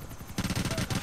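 Gunfire in the GTA 4 video game, a burst of rapid shots following a quieter stretch, fairly close and moderately loud.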